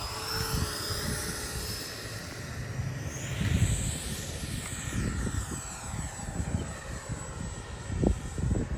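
A small H-King Viper64 RC jet flies overhead, its steady whine rising and falling as it passes, with a noticeable Doppler sweep and a low rumble of wind beneath.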